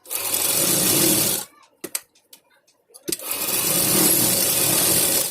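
A sewing machine stitches the shoulder seam of a cotton frock-style kurti, running in two long steady whirring bursts separated by a short pause with a few small clicks.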